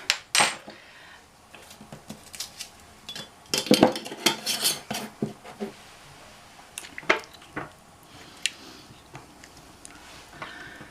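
Tikka curry powder is stirred into a very mild curry: a spoon scrapes and knocks against a pot in irregular clusters of clinks, loudest in a busy run early on, then sparser taps.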